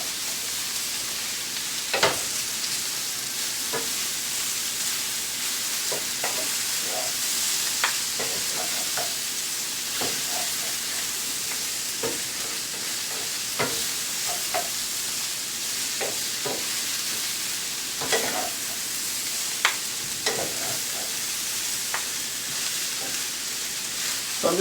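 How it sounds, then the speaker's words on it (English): Pineapple chicken fried rice stirred in a hot pan, with a steady sizzle and repeated scraping strokes of a utensil, close and continuous with no talking. "So I'm just going to mix this up for about 4 or 5 minutes or so."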